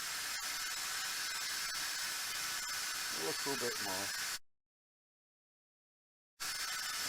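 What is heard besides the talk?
electric drill boring into a potato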